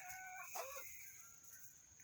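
Backyard hens clucking softly at close range, a faint, low murmur of short calls that carries on through the whole stretch with no one talking.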